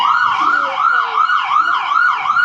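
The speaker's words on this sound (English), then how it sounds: "Does that make a difference with the siren?" An emergency vehicle siren on a New York City street gives a loud, close, repeating wail that rises and falls smoothly throughout.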